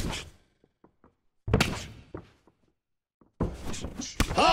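Heavy right-hand punches thud on impact in the EA Sports UFC 2 fighting game, several dull strikes in quick succession separated by short silences, with crowd-like noise swelling at the end.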